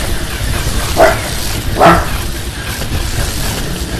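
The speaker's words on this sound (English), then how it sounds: "Stop barking at the dead guy in the corner." A dog barks twice in the Men in Black 3 Alien Crisis video game, two short distinct barks about a second apart over a steady background hum.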